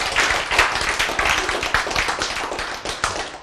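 An audience claps together in a dense, steady patter of many hands, loud and close, filling the whole stretch with no talking over it.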